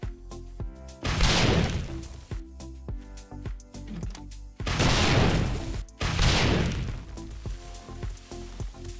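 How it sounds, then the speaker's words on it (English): Rocket launcher high-explosive blasts in 7 Days to Die go off as three loud, broad booming bursts with trailing rumble, separated by quieter clattering game sounds and small impacts. "if you're lucky enough to have a good old rocket launcher with high explosives"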